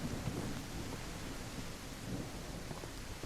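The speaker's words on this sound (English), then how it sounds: "There's rain and there's fog." Rain falls steadily with low thunder rumbling on an island in the survival game Outbreak Island. A constant, dense hiss of rain is heard with deep rolling thunder beneath it and no voices.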